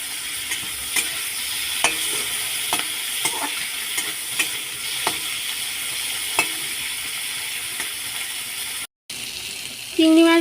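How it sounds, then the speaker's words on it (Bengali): Spiced shrimp frying in hot mustard oil in a wok, giving a steady close sizzle with regular soft stirring scrapes and a brief break near the end. "মশলা মাখানো চিংড়ি মাছ দিয়ে ভেজে নেব।"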